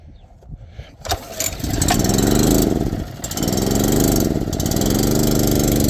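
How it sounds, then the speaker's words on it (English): Fertilizer transfer pump engine cranks and starts, then settles into a loud, steady running drone with slight surges, close by. "Now we turn our pump on."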